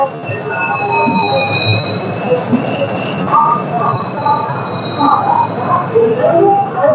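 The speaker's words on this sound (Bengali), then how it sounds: "করমণ্ডল এক্সপ্রেস অবশেষে হাওড়া ঢুকলো" The Howrah–Chennai Coromandel Express pulls into Howrah station with a steady rumble and sustained high wheel squeal. Station noise and voices sound underneath.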